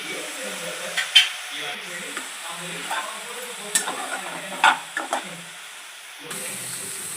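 Sliced onions fry in a pan, a faint sizzle with intermittent stirring scrapes and clinks close by, fairly quiet overall.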